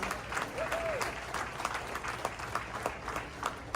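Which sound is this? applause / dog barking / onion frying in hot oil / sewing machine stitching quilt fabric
applause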